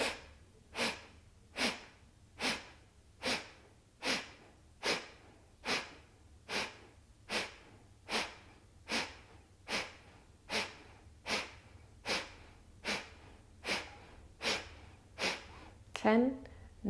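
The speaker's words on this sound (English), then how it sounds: "And then take a deep inhale. Full exhale." Pranayama breathing exercise with rhythmic forceful exhales through the nose, about eighteen sharp evenly spaced puffs roughly once per second, close and clear, ending with a brief breathy sound.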